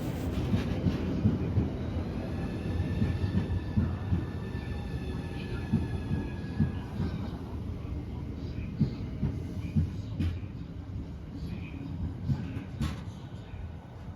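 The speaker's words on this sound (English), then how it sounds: "my Southeastern service arrived into the platform to take me towards the next station" Southeastern passenger train pulling into a platform at Ashford International station, Kent, giving a steady loud rumble of wheels and rail noise with faint high squeals throughout.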